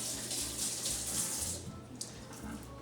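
Tap water runs steadily over fresh basil in a kitchen, a close, continuous splashing hiss with a brief dip and one small knock near the end.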